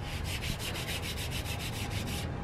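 A hand rubs back and forth over freshly polished paint on a Toyota Supra fender, producing a soft, rhythmic swishing squeak, close up and steady, with no talk.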